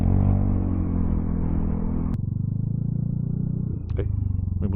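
A motorcycle passes on the road, its engine a loud, steady low rumble that shifts abruptly partway through and carries on with a faint rattle and a few brief sounds near the end.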